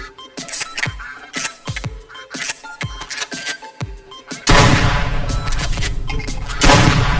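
Shotgun blasts while duck hunting with a dog, about eight sharp reports in quick succession, then a continuous loud burst of noise that stays up to the end.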